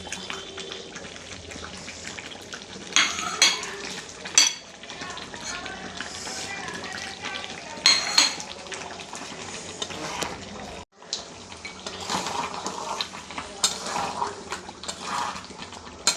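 Mutton curry frying in a pan as it is stirred, a continuous wet sizzle broken by louder scraping and splashing bursts, with a brief gap midway.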